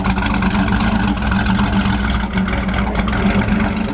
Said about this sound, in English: Boy, listen to that engine.